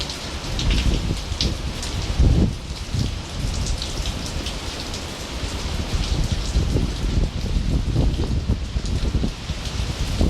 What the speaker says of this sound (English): the rain was coming in sideways with a gust of wind